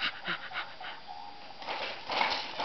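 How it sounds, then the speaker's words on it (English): Baby bouncing in a jumperoo, breathing in quick rhythmic pants like a puppy, a run of short breathy bursts up close that grows louder toward the end. "You pant like a puppy dog."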